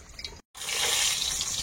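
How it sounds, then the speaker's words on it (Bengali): Water poured into a pan of braised chicken curry, a soft splash and gush after a brief silence, steady and close. "মাংসটা ভালো করে সময় নিয়ে কষিয়ে নিয়েছি, এখন জল দেবো"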